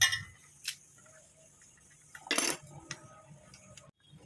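A utensil clinks against a mixer jar while ingredients for a radish chutney are spooned in, a few light taps and one louder clattering scrape near the middle, close by with a quiet kitchen background.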